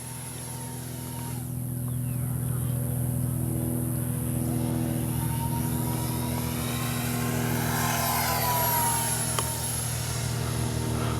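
An X-Fly 40mm EDF F-15 RC jet climbs with a steady, loud ducted-fan whine, holding a constant drone that swells slightly as it goes up, with no voices.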